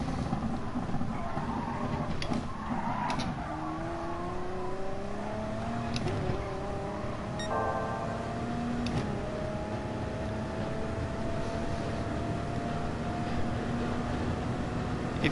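Race car engine note in Gran Turismo Sport during a braking zone: a loud, continuous engine drone that drops and shifts pitch through downshifts, with a steady roar of wind and tire noise throughout.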